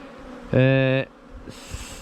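A single honey bee buzzes past loudly at an open hive during swarm prevention work, a half-second tonal drone rising suddenly and cutting off, followed by faint background hum and ticks.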